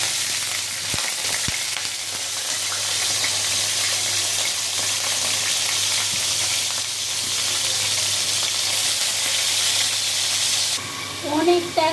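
Chicken pieces fry in hot oil in a pan, a steady loud sizzle that holds throughout, with a couple of brief knocks early on and some stirring near the end.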